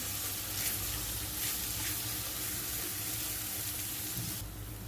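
Red chili powder and turmeric sautéed in hot oil, producing a dense, steady sizzle with stirring scrapes close by that drops off abruptly at the end, no talking.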